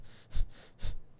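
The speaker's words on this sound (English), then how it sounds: "if somebody wants breath of fire, it's like a dog panting, but the mouth is closed and it's a strong contraction in the belly" Breath of fire yoga breathing through a closed mouth, two forceful, sharp nasal exhales driven by strong belly pumping, close and distinct in quick succession.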